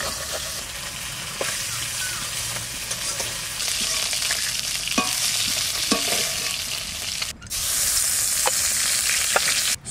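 Mustard seeds sizzle and crackle in hot oil in a village kitchen, tempering for a shol fish and raw mango curry. A loud, steady hiss runs throughout with scattered sharp pops, briefly dipping near the end.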